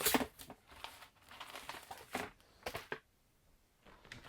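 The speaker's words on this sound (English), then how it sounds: "This is pretty good protection inside the box. Comes in a plastic bag." Plastic bag packaging crinkles while an iBuyPower Y60IBP desktop computer is unboxed, producing several close, irregular bursts of rustling with short quiet gaps and no speech.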